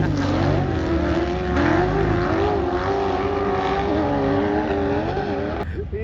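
Sand rail dune buggies on paddle tires take off across the Glamis sand dunes, their engines roaring loudly and continuously with rising revs, close and with no talk.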